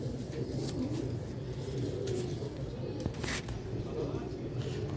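Rooftop pigeons coo in soft, low, rolling calls that sit under nearby voices and steady background noise.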